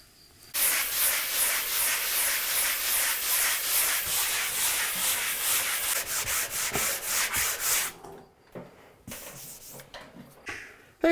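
Cottage walls are sanded before painting, a steady close rasping scrape that runs for about eight seconds and then breaks into a few short strokes.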